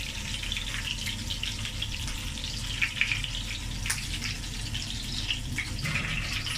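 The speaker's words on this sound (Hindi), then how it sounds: "तो इसको ज़रा सा सौते करते हैं हम इसमें।" Onion sautéing in a pan for Thai-style spicy chicken noodles: steady hissing sizzle with small crackles and pops, close and continuous, no talking.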